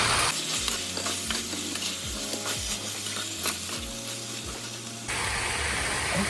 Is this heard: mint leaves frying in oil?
yes